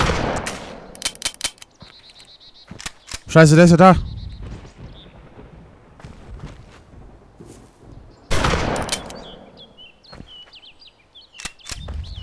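Gunshots in DayZ Standalone: a few sharp cracks early on, a louder, denser burst near the middle and another blast later, with people talking in between.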